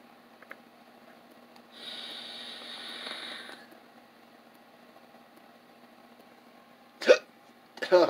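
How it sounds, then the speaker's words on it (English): A man hiccups at home, two sharp, abrupt hiccups close together near the end after a quiet stretch with a low background hum and a brief hiss earlier. "Oh, I got the hiccups now."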